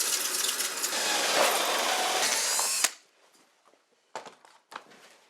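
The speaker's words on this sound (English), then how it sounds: "using a hole saw, I bore holes for the fixtures" A power drill fitted with a hole saw bores fixture holes through a shower surround panel, a loud continuous whirring grind that stops abruptly, followed by a few light clunks and handling knocks.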